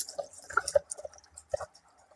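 Water poured into a homemade lemon and glucose energy drink, heard as a few uneven splashes and drips of liquid landing in a container, quiet and close with gaps of near silence.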